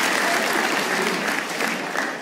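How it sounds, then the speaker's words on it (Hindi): Sustained applause from a live audience at a stand-up comedy show, a dense even clapping that fills the whole stretch with no voices over it. "हमारी टीम के लिए तालियां होनी चाहिए"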